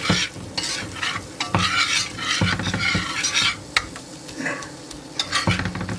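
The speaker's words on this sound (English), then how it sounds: "we're going to add our 1/3 of a cup of flour. Get that good and stirred in." Flour being stirred into a pan of ham sauce for scalloped potatoes and ham, with a steady scraping stir, light sizzling and occasional clinks of utensil against the pan, close and continuous with no talking.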